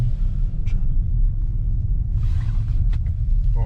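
Mercedes-AMG GT 4-door from 2020 accelerating hard, heard as a steady deep engine rumble from inside the cabin, with a few brief faint clicks over it.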